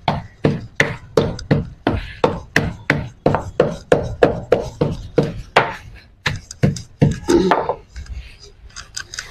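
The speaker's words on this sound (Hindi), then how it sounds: "ये मुल्तानी मिट्टी को थोड़ा सा कूट लेती हूँ" Dry multani mitti, fuller's earth clay, is pounded into powder in steady, evenly spaced thuds, about two per second and close by. The rhythm falters near the end, and a voice is faintly present.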